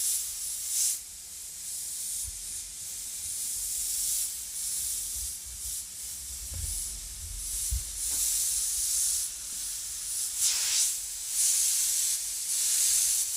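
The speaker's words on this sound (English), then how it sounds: "then in the middle you can widen up the spray and you can fill in a little faster" An airbrush sprays teal paint while filling in graffiti lettering, giving a continuous airy hiss close by that swells and eases with each pass, and no one speaks.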